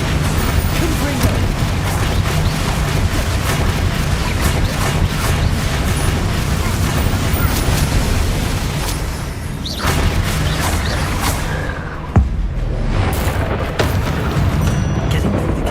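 Blasting spell explosions from the video game Hogwarts Legacy, a dense, loud barrage of booming blasts and crackling impacts that runs almost without pause, with a brief dip and a few sharp hits near the end.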